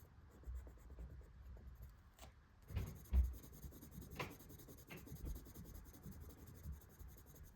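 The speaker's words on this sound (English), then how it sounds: "These pencils have worked so wonderfully on this paper." Soft scratchy strokes of a coloured pencil on paper, quiet and intermittent, with a few louder taps and scrapes.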